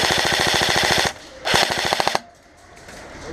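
Airsoft guns firing during a softair match in Mogliano Veneto: a rapid full-auto burst of evenly spaced shots, a brief pause, then a second shorter burst and a few single shots, loud and close.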